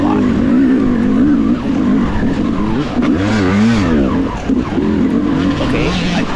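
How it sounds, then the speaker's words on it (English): Yamaha YZ250X dirt bike during a hare scramble race, its engine revved hard and close, with the pitch rising and falling in loud sweeps and no talking. "I pull in the clutch, like rev up the engine, get going"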